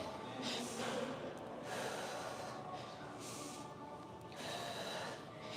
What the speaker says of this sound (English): You guys might hear a lot of breathing today from the side.